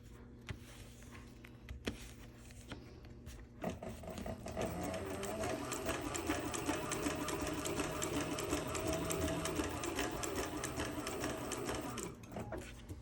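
Cobra Class 26 sewing machine stitches heavy material with thread size tex100, starting with a few clicks and then a steady, loud mechanical hum for about eight seconds before stopping.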